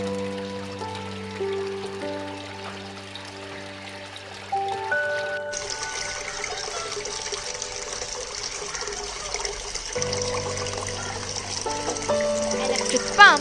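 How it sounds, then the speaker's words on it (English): A handmade garden water fountain trickles steadily as an electric pump circulates the water, with the flow growing fuller and louder midway and continuing against a tonal, music-like background. "Electric pump is used to circulate the water."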